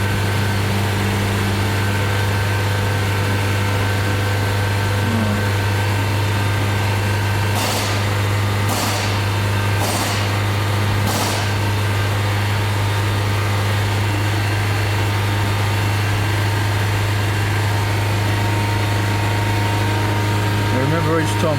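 A BMW 318i engine holding a steady RPM, a constant low hum with a faint ticking texture throughout, and a few brief higher bursts partway through, heard close and continuous.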